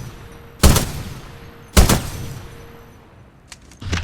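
Two loud single gunshots in Titanfall spaced about a second apart, close and sharp with decaying tails, followed by fainter smaller impacts or clicks near the end.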